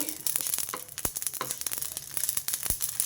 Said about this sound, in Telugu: ఇందులోనే కొంచెం షాయి జీరా వేసా ఇది కొంచెం సిమ్లో పెట్టి వేయించుకోండి